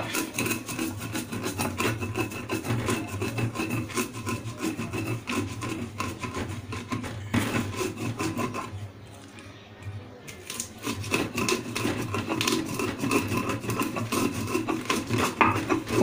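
Spices for Cameroonian mbongo crab sauce crushed by hand on a grinding stone, a steady rhythmic scraping and rubbing of stone on stone, close and continuous, with a brief lull midway before the grinding resumes.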